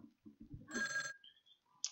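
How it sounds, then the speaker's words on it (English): A telephone rings once in a room during an online Sega Saturn match, a short bright electronic burst after some faint talk, heard from a distance and fairly quiet. "Okay, answering phone."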